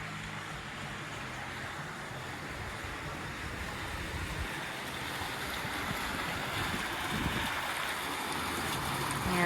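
Pool water feature flowing in a landscaped backyard with a pergola: a steady, soft rushing splash of falling water, continuous and unbroken, with no voices.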